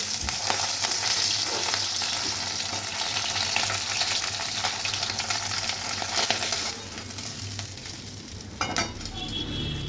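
Loud, dense sizzling of fish frying in hot oil in a wok, fairly close, easing off toward the end with a brief clatter.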